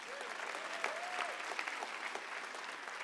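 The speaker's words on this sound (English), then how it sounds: "give yourselves a round of applause for coming out in the snow" Audience at an MLK celebration with The Apollo and WNYC applauding steadily, a dense wash of many clapping hands heard from a distance with a few faint whoops over it.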